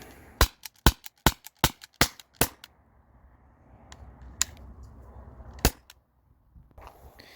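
An Umarex T4E TR50 Gen 1 .50 cal launcher (11 joule) empties a magazine: six sharp, snappy shots in quick, even succession, then a pause, followed by a couple of isolated shots with faint handling noise.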